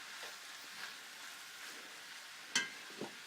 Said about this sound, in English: Won't know really till some of this hamburger starts cooking down